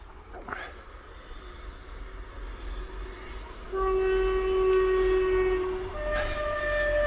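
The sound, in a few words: train going past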